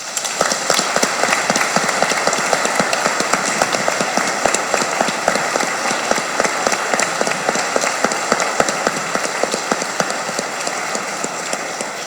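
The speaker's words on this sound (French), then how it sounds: "On les applaudit." Congregation clapping inside a church during a Sainte Anne feast day mass, a steady dense applause lasting the whole stretch at an even level, filling the space without voices.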